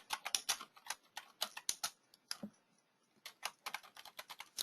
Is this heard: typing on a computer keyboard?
yes